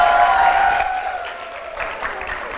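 A studio audience at a televised presidential-candidate competition applauds a contestant, the clapping thinning out over a couple of seconds beneath a sustained musical tone.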